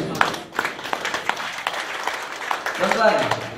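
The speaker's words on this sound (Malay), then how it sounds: "Tuan-tuan tak payah tepuk tangan." Audience applause in a hall, a crowd clapping steadily under someone speaking loudly over it, the clapping fading toward the end.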